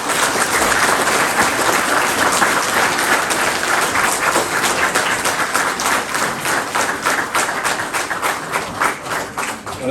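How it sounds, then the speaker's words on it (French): An audience at a Sainte-Barbe firefighters' ceremony in Le Lardin applauds the firefighters' families with loud, sustained clapping that fills the hall throughout and only begins to ease toward the end. "je souhaite qu'on applaudisse les familles ce soir"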